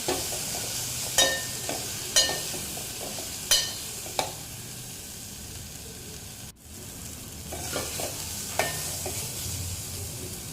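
Quiet steady sizzling of ground spice masala in a pan with occasional scraping and clinking of a spoon stirring, no talking.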